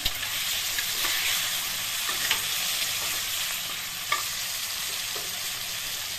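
Tomato and two green chillies hit hot oil in a frying pan for a Bengali katla fish curry, giving a steady, soft sizzle with occasional light stirring clicks and no talking.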